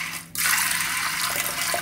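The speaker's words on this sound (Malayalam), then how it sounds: "പയറൊന്ന് മുങ്ങിക്കിടക്കത്തക്ക രീതിയിൽ വെള്ളം ഒഴിച്ചു കൊടുക്കുന്നുണ്ട്" Water pours steadily into a pressure cooker over lentils for a Kerala pumpkin erissery, starting as a sudden close splashing rush after a brief quiet moment and continuing without any talking.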